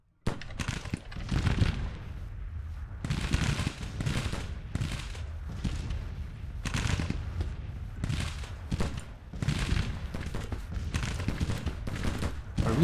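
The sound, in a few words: naval gunfire in the video game Grand Tactician: The Civil War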